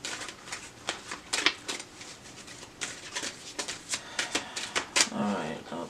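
Tarot deck riffled and shuffled by hand, a run of crisp rapid card flutters and slaps in quick bursts, close and fairly loud with no speech over it.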